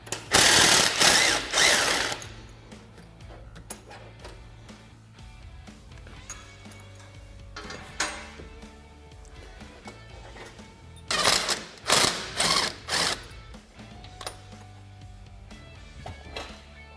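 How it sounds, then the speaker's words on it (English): Ratchet wrench removing bolts from the lower A-arms of a Polaris RZR Trail 90: bursts of loud, rapid clicking near the start and again around the middle, with quieter mechanical rattles in between. "remove all our hardware from our lower A-arms. Remove this bolt, as well as this bolt."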